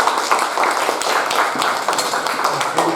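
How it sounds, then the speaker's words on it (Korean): A church congregation applauds to welcome new members, a loud, dense wash of many hands clapping at once, continuous and close throughout. "우리 사랑의 박수로 환영해 드리겠습니다"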